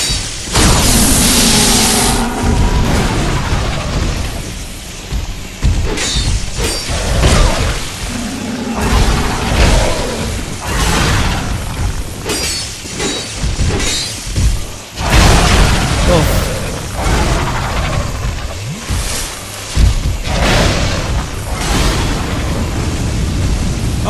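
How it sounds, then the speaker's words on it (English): Enemies breathing fire in Dark Souls II: loud booming whooshes and rushing roars of flame come in repeated waves amid crashes, with a person talking over the game sounds. "they can breathe fire"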